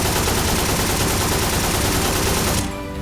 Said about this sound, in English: we're gonna be trying an AK now